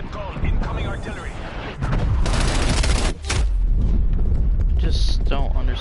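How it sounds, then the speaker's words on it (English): Incoming artillery strike in Black Ops Cold War: dense, continuous rumbling barrage of booms and blasts filling the clip, with a brief dip before the heavy explosions resume. "Net call, incoming artillery."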